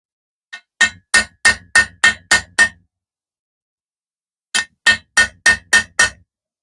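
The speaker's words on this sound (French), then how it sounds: "Je reprends le petit marteau pour la finition." A small hammer taps an engine part into place during a bottom-end rebuild with camshaft and crankshaft, a run of six sharp metallic taps, a pause, then another run of six, close and crisp.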